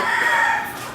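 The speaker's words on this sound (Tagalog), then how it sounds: "Stag lang ito, pero napakagandang manok." A young stag gamecock crows once, a loud, close rooster call held for about a second and fading at the end.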